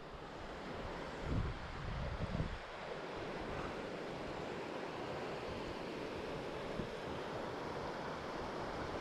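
A river runs alongside a hiking path on the Quilotoa Loop in Ecuador, a steady broadband rush of flowing water with wind buffeting the microphone, plus a few louder gusts or bumps near the start.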